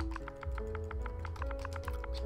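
Fingers type a game mode command on a computer keyboard, a quick run of crisp key clicks, close and even, over a low background hum.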